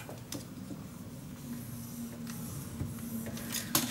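Paper is scored with a scoreboard tool for a mini album craft project, giving a soft, continuous scratchy drag close by, with a few light taps and a sharper scrape near the end.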